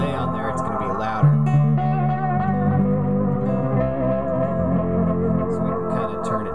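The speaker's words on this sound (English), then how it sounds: "then we turn on the delay, with a lot of delay on there" Distorted electric guitar notes smeared by heavy delay and echo from an Ape Delay effect, repeats piling into a dense wash of sound, played alone at a steady level.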